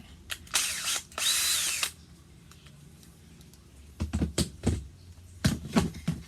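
A cordless drill with a broken chuck whirs in a couple of short bursts, followed by clicking and clattering as the chuck is handled up close.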